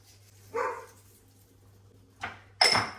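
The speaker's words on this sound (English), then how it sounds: "You can hear my puppy dog in the background." A few short barks from a puppy in the background of a kitchen, spaced out with quiet gaps between them.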